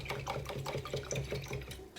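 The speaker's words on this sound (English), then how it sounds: "now I'm going to rinse my brush" A paintbrush is swished and tapped in a water cup during an acrylic tree painting, giving a close, rhythmic series of soft splashing and clinking strokes.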